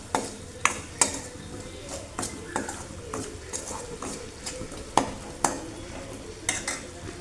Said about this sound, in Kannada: ಎಲ್ಲ ಹಾಕಿದ್ನಲ್ಲ ಅದನ್ನೆಲ್ಲ ಈರುಳ್ಳಿನ ಕಲಿಸ್ಕೊಳ್ತಾ ಇದ್ದೀನಿ ಚೆನ್ನಾಗಿ